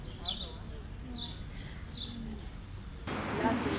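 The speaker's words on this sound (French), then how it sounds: "Salut les petits oiseaux. Il y en a plein ici." Small birds give a few thin high chirps, three or four faint calls spaced about a second apart, under low outdoor rumble; a louder rustle of noise begins near the end.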